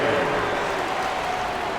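Steady, dense applause from an arena crowd at an NBA 2K24 Christmas Day game between the Golden State Warriors and the Denver Nuggets, loud and unbroken for the whole moment.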